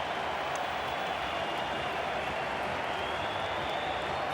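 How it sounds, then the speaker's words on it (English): A large stadium crowd at the Gabba cheers and applauds a boundary shot in a 2008 Australia versus India one-day cricket final, a dense, steady roar of clapping and shouting heard from a distance throughout. "The crowd love it."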